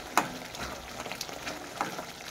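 Spice paste of cumin, coriander and black pepper powder sautés in oil for a katla fish mustard-poppy curry, giving a soft, faint sizzle with a few sharp scraping stirs.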